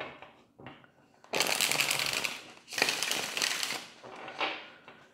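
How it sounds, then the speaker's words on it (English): A deck of tarot cards is shuffled up close, two long bursts of dense riffling crackle with a shorter flutter after, set apart by quieter card handling. "One more shuffle."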